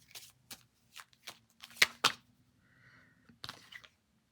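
Tarot cards being shuffled in a quiet room: a series of short riffling bursts and soft card slaps, two sharper snaps in the middle, then a brief pause and one last flurry near the end.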